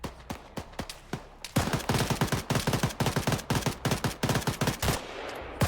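Gunfire in the video game Arma 3: a few sharp single shots, then sustained rapid automatic bursts crackling close and loud, with no talking.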